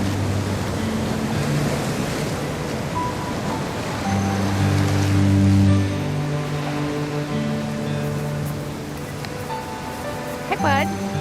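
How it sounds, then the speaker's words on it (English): Ocean surf rolls in a steady, broad wash along the California coast at Bodega Bay, with wind noise and a person talking nearby over the waves. "Capone, you like the ocean?"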